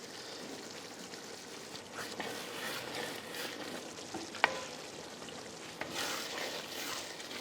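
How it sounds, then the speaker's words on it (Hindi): Salt, sugar and dried fenugreek leaves (kasuri methi) being mixed into a hot pan as a restaurant-style dish cooks, giving a steady soft sizzle with faint stirring scrapes and a couple of small clicks, no voices. "अब हम मिला रहे हैं स्वाद अनुसार नमक, और थोड़ा सा चीनी, आधा छोटा चम्मच, साथ में कसूरी मेथी स्वाद को बढ़ाएगा।"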